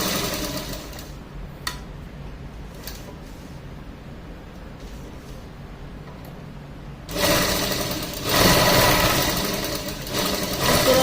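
A sewing machine stitches cloth during practice, a steady mechanical whirr that runs quietly at first, then grows louder and faster partway through as the stitching speeds up, with no talking.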